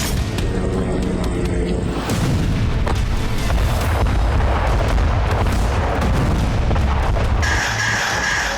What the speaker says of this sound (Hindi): ये गैलिली के बेथ हिलेल का वीडियो है जहां रात के वक्त हिजबुल्लाह ने 50 से ज्यादा रॉकेट दागे